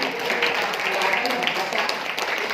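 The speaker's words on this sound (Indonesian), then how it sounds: "Tepuk tangan dong untuk sayanya." Audience applause at a seminar on community economics and sharia-based partnership programs, a steady crowd clatter filling the whole stretch at moderate level with no clear breaks, voices mixed faintly underneath.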